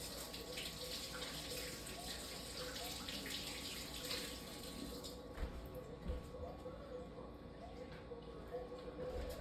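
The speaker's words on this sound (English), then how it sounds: "let me rinse my hands real quick." A kitchen tap runs steadily while hands are rinsed beneath it, a close continuous splashing hiss that softens partway through.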